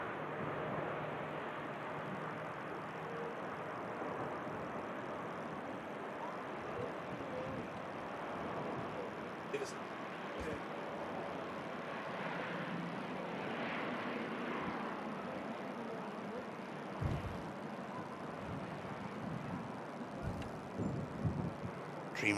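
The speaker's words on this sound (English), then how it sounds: "Dreamliner on the roll." A Boeing Dreamliner jet rolls down the runway at Manchester Airport and climbs out, a broad, sustained engine roar heard from a distance that swells slightly over time, with a few brief clicks and thumps nearby.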